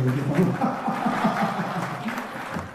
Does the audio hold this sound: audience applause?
yes